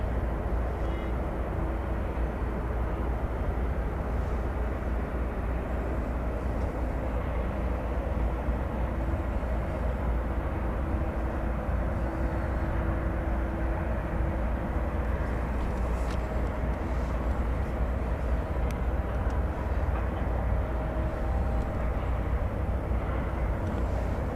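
At night at DFW Airport, a Boeing 787-9 Dreamliner airliner on Flight 7 to Brisbane gives off a steady, continuous jet roar with a faint hum running through it, unbroken from start to finish.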